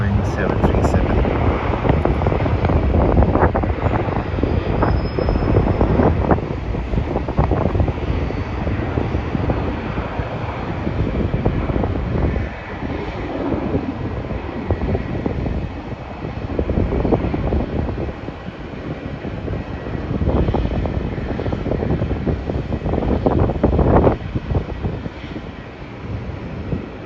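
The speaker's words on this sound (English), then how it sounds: "That is a Boeing 737." A Boeing 737 roars at Melbourne airport, a loud, continuous broadband jet rumble heard outdoors with gusting wind buffeting the microphone throughout.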